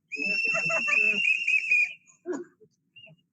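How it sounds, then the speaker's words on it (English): Whistles blown at a street protest in Washington, DC, a sustained shrill whistle blast of nearly two seconds under crowd noise, followed by a couple of short chirps and quieter voices. "Got extra whistles if you want some. Whistles are available."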